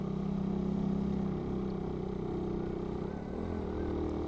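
A carbureted Honda R150 motorcycle engine labors uphill in low gear on a mountain trail, a steady droning hum that dips and recovers as it strains, heard alone without talk.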